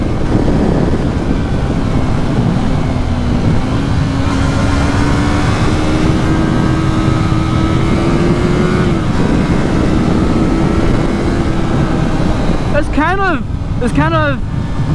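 A Yamaha MT03 motorcycle at full throttle, a loud sustained engine drone with a steady rising pitch through the gears under heavy wind rush, and a rider's voice near the end.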